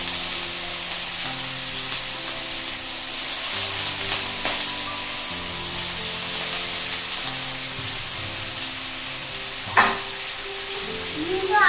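Spices with bay leaf frying in a pan and being stirred, a steady close sizzle with scraping stir strokes and a sharp clink near the end.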